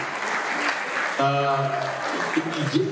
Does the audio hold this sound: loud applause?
yes